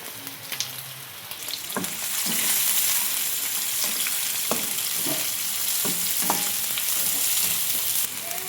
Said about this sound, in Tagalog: Magigisa na ako ng sibuyas o bawang. Sunod na yung sibuyas.